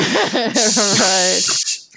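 A voice imitates an aerosol spray can, producing a long, loud breathy hiss that swells and sustains for over a second before cutting off, with a brief vocal tone underneath.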